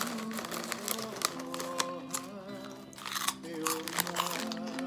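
A crunchy tofu kimchi snack from S-Mart being eaten up close, with crisp crunching bites and chewing under steady background chatter and voices.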